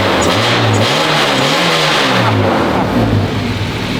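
A car with a Vibrant resonator exhaust revs hard and loud up close, its deep engine roar rising and falling for four seconds with no voice heard.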